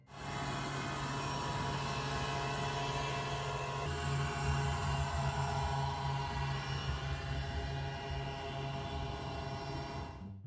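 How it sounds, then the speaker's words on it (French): A leaf blower motor powering a mop vehicle drones loudly and steadily, its pitch shifting slightly partway through, then cutting off at the end. "un balai à franges alimenté par un souffleur de feuilles"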